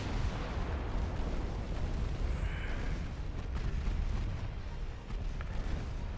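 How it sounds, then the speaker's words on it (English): Naval gunfire from warships in the Ultimate Admiral Dreadnoughts game pounds a light cruiser, a dense continuous rumble of distant artillery booms and bursts rolling on steadily without pause. "that poor light cruiser's getting pounded."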